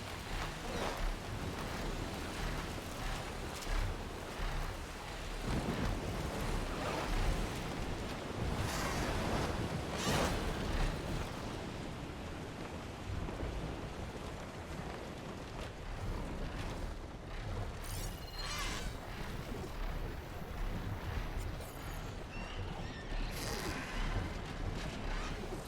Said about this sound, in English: I'm a little slippery in this rain.